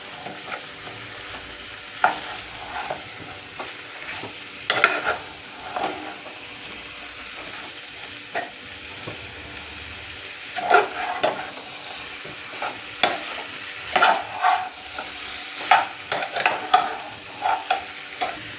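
Chicken tossed in a pan with homemade red chilli powder, its steady frying sizzle broken by repeated scraping and clacking stirs that turn busier and louder toward the end, close up and with no talking.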